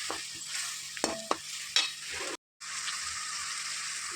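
Egg masala with meal maker chunks being stirred and fried in a pan, with a steady close sizzle and a few sharp scraping strokes of the spoon against the pan.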